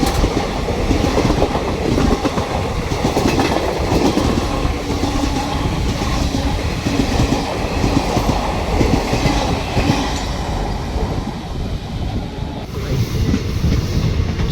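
An Ajmer train overtakes at Vangaon railway station, its loud, close rumble and rhythmic clickety-clack of wheels on rail joints continuing unbroken from start to finish, with no talking.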